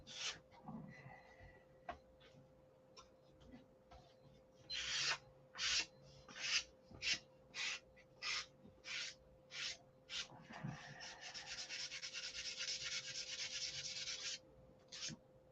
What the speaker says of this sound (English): Man, I got to watch that sander.